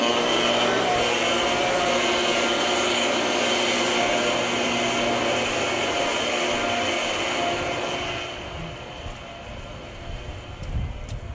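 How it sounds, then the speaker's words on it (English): A pump drains a water heater through a hose with a constant loud mechanical whir and rushing drone. The hum holds steady and then drops a little in level near the end. "We're about to turn on my pump and get this thing draining out."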